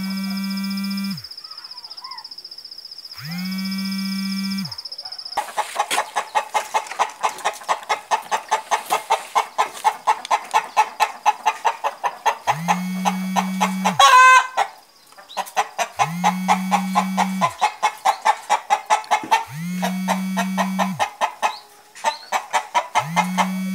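Farm chickens cluck steadily in a near, busy chorus while a rooster crows several times in long repeated calls, with no talking.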